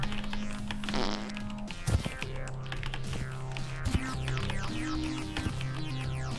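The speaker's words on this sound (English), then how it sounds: "Did anybody fart in it?" Fart noise from the video game Amazing Frog, a loud burst near the start followed by several more short rumbling blasts amid busy game sounds and music.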